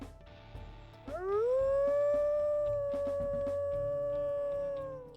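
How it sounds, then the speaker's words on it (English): Wolf howl from the video game WolfQuest: a single long, steady, clear howl that rises at the start and holds its pitch for several seconds before tapering off, over a low background music bed. "we'll listen to his howls here."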